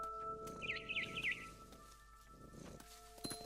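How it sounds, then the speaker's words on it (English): A barn swallow in the video game What Remains of Edith Finch gives three quick, bright chirps over a low ambient hum, fairly faint and with no talking. "Then I heard chirping outside my window."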